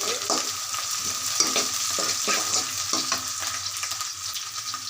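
Onions and mixed vegetables fry in a pan while a spoon stirs them, giving a steady sizzle broken by repeated scraping clacks at a quick, uneven rhythm, close and moderately loud with no talking.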